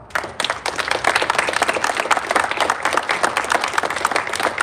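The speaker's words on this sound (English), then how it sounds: "Give yourselves a round of applause for tonight as well" An audience at a city council meeting breaks into steady, lively applause, many hands clapping together at close range for several seconds without a pause.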